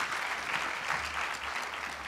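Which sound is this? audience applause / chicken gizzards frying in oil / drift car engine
audience applause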